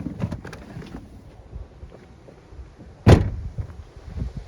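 A door on an Audi A5 2.0 TFSI S-Line convertible shuts with a single sharp thud midway through, standing out against quiet background rumble and light wind noise.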